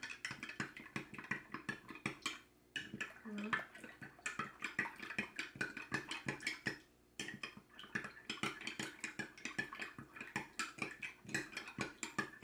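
A spoon stirs rice flour into milk, giving quick, rhythmic clinks and scrapes against the container with two brief pauses.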